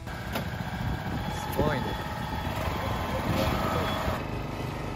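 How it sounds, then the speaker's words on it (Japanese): A tractor planting rice seedlings into a paddy field runs at a steady mid-pitched drone throughout, near and continuous, with people chatting over it. "あのトラクターでもう苗をこうブスブスブスと埋めていくと。"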